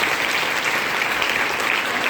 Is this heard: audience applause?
yes